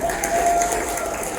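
An audience applauds a music composer at a Marathi film trailer launch, a dense, steady burst of clapping heard briefly and fairly close.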